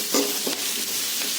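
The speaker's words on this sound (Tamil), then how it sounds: "பூண்டு போட்டு அதையும் 2 கொஞ்சம் வதக்கிக்கோங்க." Garlic sautéing in a pan for potato poriyal, a brief close sizzle broken by a few quick scraping stirs, with no voices.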